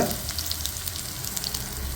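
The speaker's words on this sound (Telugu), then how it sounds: "ఇందులో కచ్చాపిచ్చాగా దంపుకున్నటువంటి వెల్లుల్లిపాయ అవి వేగిన తర్వాత" Crushed garlic frying in hot oil for a Telugu spinach dal tempering gives a steady, close sizzle with a crackling hiss that runs unbroken for two seconds. No voices are heard.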